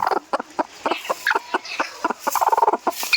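A local hen on a farm, brooding on fifteen eggs with her chicks, gives a busy run of short, close clucks and croaks in quick irregular bursts, with other fowl calling alongside.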